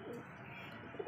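Three caught pigeons coo softly in a brief, quiet burst of low, throaty calls against faint background noise.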